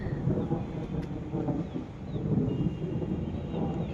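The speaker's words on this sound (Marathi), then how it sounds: "अरे बस किती गरजा लागलाय" Steady, heavy rumbling thunder rolls on without a break, with rain-like hiss beneath it and no voices.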